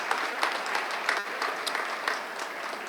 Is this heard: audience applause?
yes